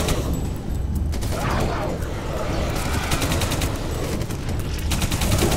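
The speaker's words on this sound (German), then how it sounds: "Schöne Zwillingskanone." Rapid bursts from a twin cannon in the sci-fi shooter Alien Breed: Impact, loud and near, firing in dense repeated volleys with booming impacts throughout, and a little talk mixed in.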